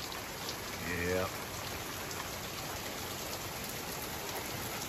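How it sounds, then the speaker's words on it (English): Steady rain during a thunderstorm in New Orleans, a constant hiss of falling water heard from inside a car, with a brief voice rising over it near the start. "Dark rain, thunderstorm right here."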